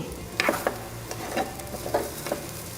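Curry being stirred in a pan, with a handful of soft scraping strokes over a quiet frying hiss, close by and fairly faint, no talk.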